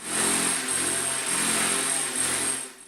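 Small radio-controlled model helicopter with a homemade rotor head hovering in flight, a steady high-pitched rotor and motor whine with a rhythmic pulsing drone, close and loud throughout with no talking.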